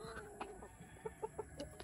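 A Black Australorp rooster in a free-range flock gives a short series of soft, close clucks, a few evenly spaced notes over a faint hum.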